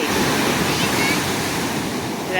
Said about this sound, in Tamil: வருது பெரிய அலை வருது